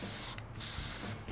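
Plasti Dip aerosol sprays onto pick-and-pluck case foam through a fan nozzle in two short hissing bursts, up close and fairly quiet.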